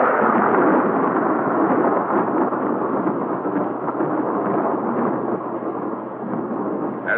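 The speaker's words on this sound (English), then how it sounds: "Seconds later, the blast wave reaches the trenches." Atomic bomb blast wave rolling over trenches, a loud continuous deep rumbling roar that holds steady throughout, dense and muffled as in an old archival recording.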